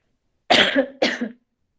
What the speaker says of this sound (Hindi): खांसी सी हो रखी है आजकल।